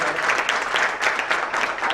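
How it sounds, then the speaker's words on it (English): An audience at a Delhi-NCR conference applauds the panelists with a full, even round of clapping, loud and close, with a faint murmur beneath. "So let's give a round of applause to our panelists today."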